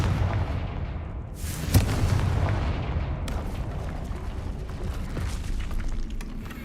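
Confringo fire spell blasts in the Hogwarts Legacy video game: loud booming impacts over a continuous rumbling bed, with a sharp blast near the two-second mark and further thuds afterward, no talking.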